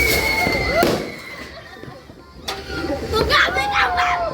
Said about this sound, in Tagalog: Ang daming fireworks.